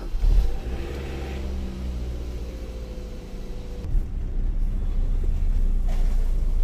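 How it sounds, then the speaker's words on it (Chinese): A manual-transmission cargo truck loaded with firewood drives along with a steady low engine drone and wind rumble, heard from close by without talk. "这个货车，他第一次开，第一次拉这个柴火。"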